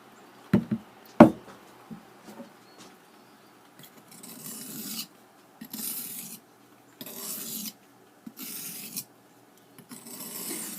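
Sandpaper, 100 grit, rubbed back and forth over a knife handle on a saw-blade knife, making soft rasping strokes in bursts of a second or so with pauses between, close and fairly quiet, after a couple of sharp knocks at the start.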